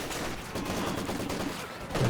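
Maxim machine gun fire rattles in a Company of Heroes 2 match, fast continuous bursts mixed with other battle gunfire at moderate loudness.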